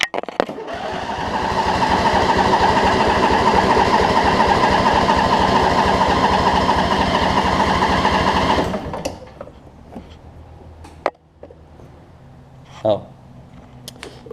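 A Craftsman riding mower with a Briggs V-twin engine cranks for about eight seconds, with a loud, steady whirring starter that then cuts off. Brief knocks and a short voice follow in quieter surroundings.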